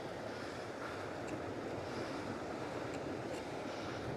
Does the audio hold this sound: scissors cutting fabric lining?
no